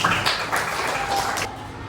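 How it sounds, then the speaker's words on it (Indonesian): Classroom applause rings out from students in a math lesson, a steady broadband patter of many hands clapping for about a second and a half before it thins out. "Tepuk tangan dulu"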